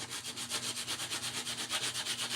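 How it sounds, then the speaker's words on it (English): Sandpaper rubs rapidly back and forth along the edges of a craft piece to distress it, a steady close rasping in quick even strokes with no talk. "distress, which means sanding the edges"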